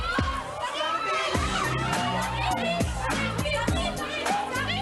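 A loud crowd of screaming fans, mostly girls, shrieking and cheering continuously at close range for the 3T, with overlapping high-pitched yells and chatter throughout.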